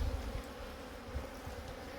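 Honey bees buzz inside a small two-way mating nuc, a close, steady droning hum with faint fluctuations as a few insects move about, no talking.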